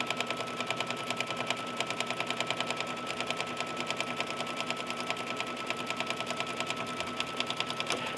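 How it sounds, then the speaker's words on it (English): An embroidery sewing machine stitches a fabric placement line for a pieced baby bib made in the hoop, a fast, steady run of rapid needle clatter holding an even rhythm throughout, close and alone with no talking. "So this just stitched a line so that we know where to place our fabrics."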